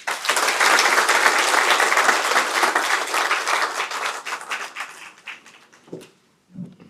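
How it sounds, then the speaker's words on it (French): Applause from a large audience at a Senegalese government event, loud and dense at first, then thinning and fading out over several seconds, with a few scattered claps and faint voices at the end. "sous vos applaudissements"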